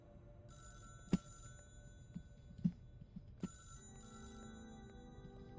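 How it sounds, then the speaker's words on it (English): Telephone bell rings in the video game Clair Obscur: Expedition 33, a faint series of a few short, sharp rings spaced about a second apart over quiet ambient game sound. "Whoa, did I hear a phone?"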